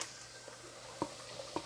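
Ground meat being stirred in a pan while it sautés for a Brazilian farofa with carrot, giving a faint sizzle with a few soft scrapes and taps of the spoon.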